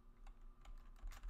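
Quick keystrokes on a computer keyboard, a short burst of several soft, uneven clicks heard alone and fairly quiet, as a line of code is entered.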